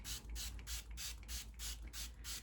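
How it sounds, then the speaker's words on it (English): A hand spray bottle mists water onto a doll's long, straight, fine hair in eight quick, even pumps, close and soft with steady rhythm. "Let's go ahead and do spray down."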